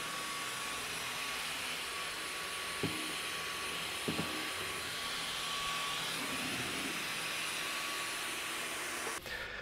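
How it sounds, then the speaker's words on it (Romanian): A Dyson V15 laser cordless vacuum cleaner runs with a steady loud high-pitched whir throughout, a few soft knocks midway and an abrupt change near the end, with no talking. "O să vă pun aici o filmare cum aspiră acest aspirator."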